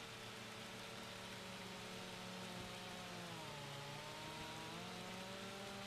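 Chainsaw in Farming Simulator 25 trimming limbs from a tree while logging for firewood, a steady droning engine whine with shifting pitch that runs continuously and loud throughout.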